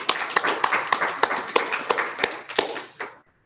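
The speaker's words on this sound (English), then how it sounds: "let's give a round of applause" A small workshop audience gives a round of applause, sparse sharp claps with a few distinct loud hits over a soft clapping bed, fading out abruptly after about three seconds.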